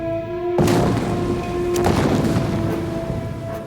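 A bomb goes off in a reconstructed wartime conference room with a table, a sudden loud blast after a brief steady tone, followed by a long rumbling roar and scattered debris impacts.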